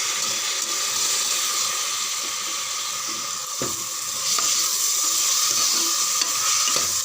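Soaked toor and moong dal sautéing in a pan for pudalangaai kootu, giving a continuous close sizzle with occasional scrapes of stirring and no voices.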